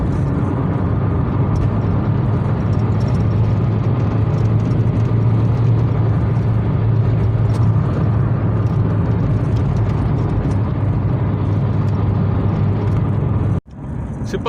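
A VW Golf 4 TDI 130 cruises along a road at steady speed, a loud continuous engine hum and rushing road and wind noise filling the cabin, cutting off abruptly at the end.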